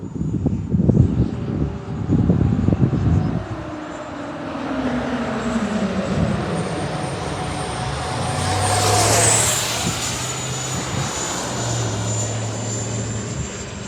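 A 90mm E-flite RC jet circles in a holding pattern with a continuous high whine. The sound swells and fades as the jet passes at moderate distance, and low rumbling noise sits beneath it.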